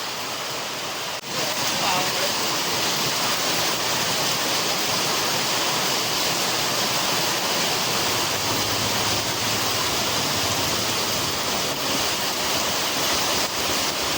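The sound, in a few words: heavy rain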